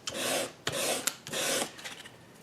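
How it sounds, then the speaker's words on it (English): The edge of a bentwood ring is sanded by hand with 120 grit sandpaper in three quick back-and-forth rubbing bursts, close and soft, with no talking. "I'm going to go ahead and sand all these"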